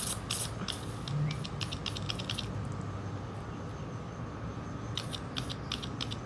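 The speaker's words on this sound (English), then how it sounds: "just spray them some PF Blaster" PB Blaster penetrating oil is sprayed from an aerosol can onto skateboard bearings in short hissing bursts, a longer spray at the start and another burst later, over a quiet background.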